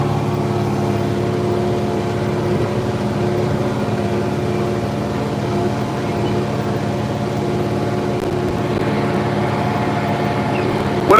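An International 4786 tractor pulling a cultimulcher during fall tillage, its engine a steady, droning hum with constant tonal harmonics, running alone without pause from the cab.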